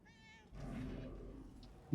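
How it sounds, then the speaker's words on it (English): A pet cat meows indoors, a short, high, faint cry near the start, followed by a longer, lower, muffled yowl and a brief soft sound near the end. "Oh, that's my cat."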